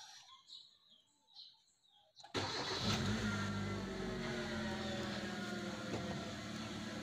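A 2014 Hyundai Accent engine cranks and catches after faint bird chirps. It then settles into a steady, close idle that continues to the end.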